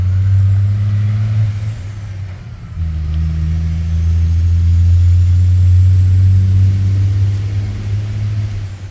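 A vehicle with a manual transmission drives by on the road. Its engine gives a loud, steady low drone throughout, with a brief dip near the three-second mark like a gear change before the engine pulls again.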